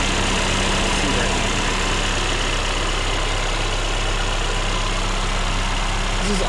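A 2020 Mercedes-Benz A35 AMG with a direct-injection engine, carbon intake and downpipe idles close by, a steady low hum with constant harmonic bands and a faint ticking texture on top, holding level throughout.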